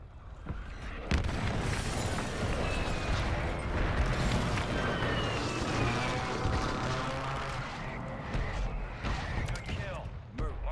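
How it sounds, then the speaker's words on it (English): In a Call of Duty match, an airstrike produces a long, dense barrage of booming explosions and crashing debris, loud and continuous, with gunfire and voices mixed in. "Airstrike."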